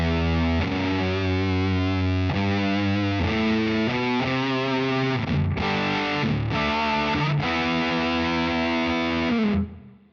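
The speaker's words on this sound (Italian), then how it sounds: "Questo è il Big Muff da solo." A Big Muff fuzz guitar tone played through a Fractal Axe-FX gives thick, saturated sustained chords that change every second or so, loud and alone, then stops near the end.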